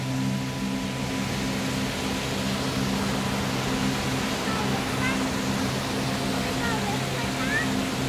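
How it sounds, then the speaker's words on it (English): Rushing waterfall at Nichols Falls, a steady broadband roar of falling water holding constant loudness throughout, with a low hum beneath and no voices clearly heard. "Oh, there's the waterfall."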